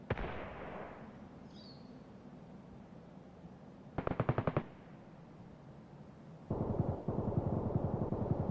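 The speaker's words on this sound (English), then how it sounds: "He's shooting at somebody." Gunfire in the video game Escape from Tarkov: a single sharp shot, then two rapid automatic bursts, loud and close against a low ambient hum.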